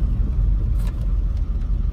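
Car driving on the road, a steady low rumble of engine and road noise inside the moving vehicle, continuous and fairly loud.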